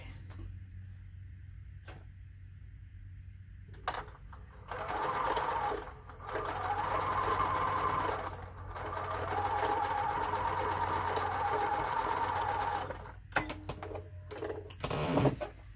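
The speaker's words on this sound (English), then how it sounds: "I'm going to top stitch right along these right there to finish it off" A sewing machine top-stitching a seat cushion slip cover, running in several bursts of steady mechanical whirring separated by short quiet pauses and a few clicks.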